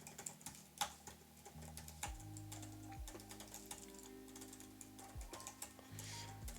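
Keys clatter on a computer keyboard while someone writes code, a quiet, steady stream of clicks with brief pauses, set against a low background hum.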